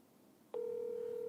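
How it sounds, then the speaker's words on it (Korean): A telephone placing a call on speakerphone: after a moment of near silence, a single steady, continuous tone sounds and holds to the end, with no voices. "제가 지금 전화 연결을 한번 해보겠습니다"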